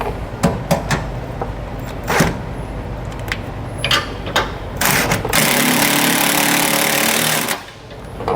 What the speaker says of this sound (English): So now we'll put on our new nut and snug it on down